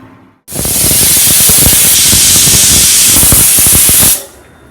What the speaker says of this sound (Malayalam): ഇപ്പം ആദ്യത്തെ സ്റ്റീം വന്നു.